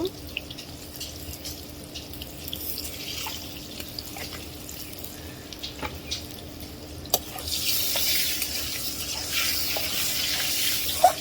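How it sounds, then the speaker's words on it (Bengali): Potatoes frying in oil, scattered small pops and crackles at first, then a brighter steady sizzle swelling in partway through and continuing to the end, close by. "এই তেলে আমি আলু ভেজে নিব।"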